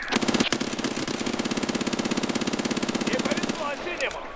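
A PPSh submachine gun in the video game Escape from Tarkov Arena fires one long, rapid, evenly paced burst of about three seconds, loud and close, with a voice briefly heard around it.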